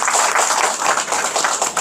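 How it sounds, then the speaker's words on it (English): A classroom audience at a teacher-training session gives a brief burst of dense clapping for a group's performance, loud and close. "let us please give a big round of applause to group 4"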